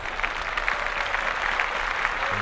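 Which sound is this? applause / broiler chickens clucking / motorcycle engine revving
applause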